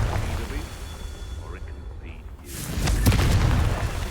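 A Confringo fire spell bursts in the Hogwarts Legacy video game, a sudden broad explosive whoosh about midway that swells into a loud rumbling blast, over a low game ambience with voice activity.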